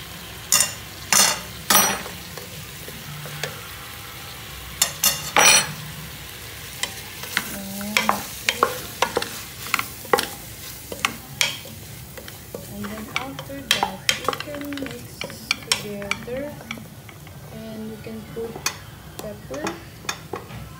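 A spoon stirs flour into a pot of salmon chowder, giving repeated scraping clacks against the pot in bursts over a soft sizzle, with no talking.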